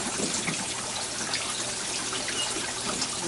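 Water splashing and spattering upward as blown air strikes its surface, a continuous close gushing hiss that holds steady throughout with no talk.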